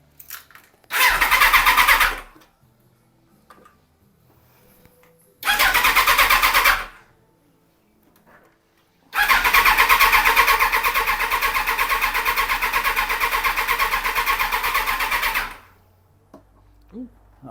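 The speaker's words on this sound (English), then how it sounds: "But I would imagine once I've cranked that engine over" A 1996 Suzuki GSX-R 1100 motorcycle being cranked after an oil and filter change, two short starter bursts separated by silence, then a longer crank lasting about six seconds before stopping, close and loud.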